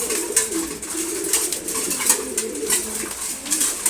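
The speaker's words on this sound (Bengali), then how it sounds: "তারপর হচ্ছে গিরিবাস কবুতর।" Several pigeons, including a Giribaz pigeon, coo softly and steadily while they feed in the morning. The low, rounded calls repeat in an uneven rhythm and sit close to the listener.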